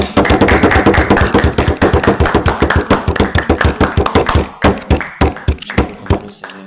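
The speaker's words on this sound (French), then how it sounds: "Applaudissons d'abord pour le Seigneur Jésus." Applause at a church revival gathering in Mbouo, rendered as loud, close, rhythmic claps in a steady beat that thins into irregular claps near the end.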